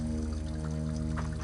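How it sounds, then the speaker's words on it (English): Water pours into an animal bladder in the video game Warcraft Adventures, a brief, steady gurgling pour over a low, constant hum. "Filling with water."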